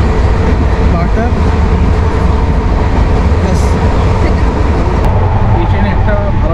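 Shatabdi Express passenger train running on the rails, a loud, steady rumble and rattle heard from inside the coach, continuous for several seconds, with speech faintly mixed in.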